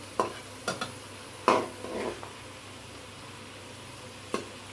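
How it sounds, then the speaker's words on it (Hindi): Onion frying with ginger garlic paste in a pan while a spoon stirs it, a low sizzle broken by several sharp scraping strokes and a brief rattle, close. "इसमें हम अदरक और लहसुन का पेस्ट शामिल कर देंगे। चम्मच साथ साथ चलाते रहें।"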